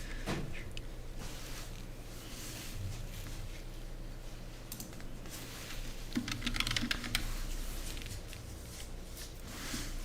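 Rapid typing on two computer keyboards at a desk, a steady patter of key clicks running throughout with busy clatter near and fairly loud over a low room hum.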